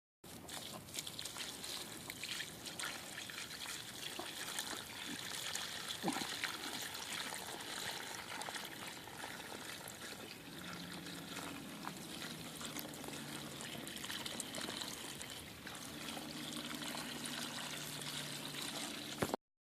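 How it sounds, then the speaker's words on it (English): Wood ash slurry pours out onto a heap of straw in a continuous watery splashing and trickling, faint and steady throughout, with a low murmur of background noise. "all we're going to do now is dump this slurry onto this straw."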